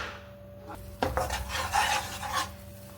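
Besan (gram flour) roasting in ghee on a low flame, stirred with a spoon that rasps and scrapes against the pan in short uneven strokes, close and fairly quiet.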